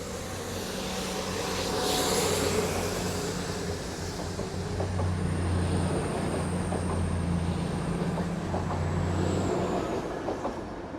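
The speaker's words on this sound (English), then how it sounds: "Also departing now will be your 1332 East Midlands Railway service from Sheffield down to London St Pancras" East Midlands Railway Class 222 diesel unit pulling out of Derby station, a loud sustained engine drone that swells and holds with a faint high whine above it.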